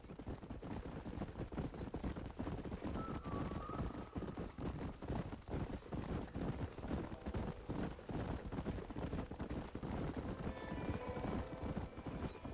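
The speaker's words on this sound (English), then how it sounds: "Let's go rope some horses just like in the good old days" Several horses gallop in an Old West open range setting in Red Dead Redemption, a fast continuous drumming of hooves close by with occasional whinnies above it.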